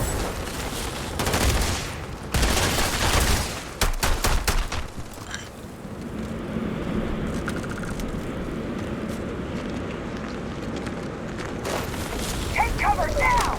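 Gunfire in the space game Starfield: bursts of rapid shots and booming blasts, loud and close, with spoken voices mixed among the firing.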